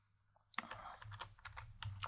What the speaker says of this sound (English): let's try to type in